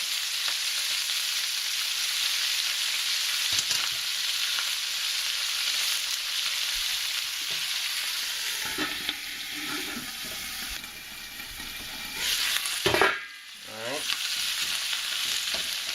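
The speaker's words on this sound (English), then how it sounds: "Our pan is hot, so I'm going to add my cabbage all at once." Chopped cabbage sizzles loudly in a hot pan, a steady broadband frying hiss with stirring scrapes and a sharp burst of crackling near the end, no voices.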